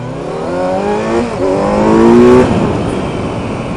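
A 2019 Kawasaki Z900 motorcycle engine accelerates hard during a ride, its note climbing steadily through the revs, loud and close, then easing off toward the end.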